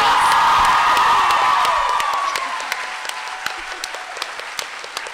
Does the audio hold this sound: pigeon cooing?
no